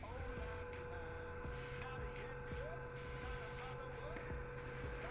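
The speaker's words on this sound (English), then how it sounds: "Just spraying our bone white over this whole model." An airbrush sprays bone white paint across a whole Deathwing miniature, giving a steady close hiss in short bursts with a constant mechanical hum beneath.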